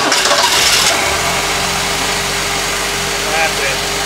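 A Ford 200 inline-six with a two-barrel carburetor cranks and fires, then settles into a steady, close idle hum, with a brief voice speaking partway through.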